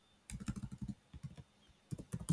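Close-up computer keyboard typing while entering code, with two quick bursts of crisp keystrokes separated by a short pause, alone without voices.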